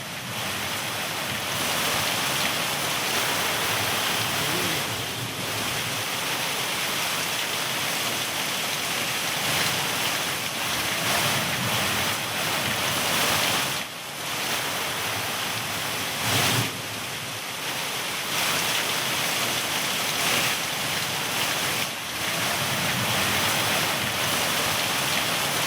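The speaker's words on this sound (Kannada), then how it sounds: "ದಿಢೀರಂತ ಸುರಿದಂಥ ಮಳೆಗೆ ಜನ ಅಲ್ಲಲ್ಲಿ ಸಿಲುಕಿಕೊಂಡು ಪರದಾಡುವಂತಾಗಿತ್ತು" Sudden heavy rain lashes Bengaluru in a loud, steady wash of hiss and spatter that carries on without letup, with no voices over it.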